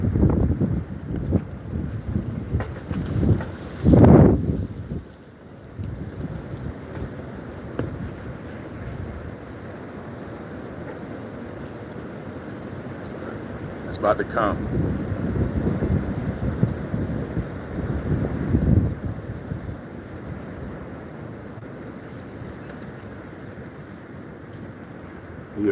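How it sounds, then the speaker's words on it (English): Strong wind blowing hard outside a car with the window down, a loud continuous low rumble of buffeting gusts that swell and ease, with a brief voice and a few louder bursts. "I just couldn't believe how hard the wind was blowing."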